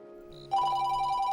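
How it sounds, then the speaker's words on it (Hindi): A telephone bursts into an electronic ring partway through, loud and close, sounding steadily after a brief quiet moment indoors. "ये किसका फोन आया?"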